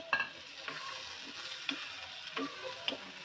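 Chopped tomatoes go into a pan of vegetable pulao and are stirred: faint sizzling with soft, irregular scraping and clicking strokes of a spoon.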